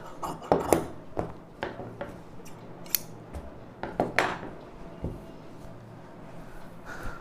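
Scissors snip off the extra border of baby frock lining fabric in a series of sharp, close cuts at an uneven pace, with quiet pauses between the snips.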